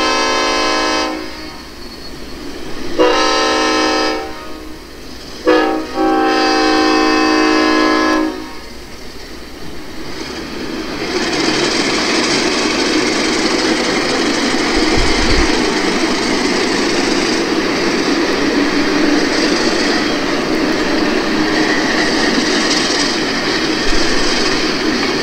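An RSD-12 model locomotive sounds its horn in three bursts, then rolls along a layout track with a steady, close rumble for the rest of the time.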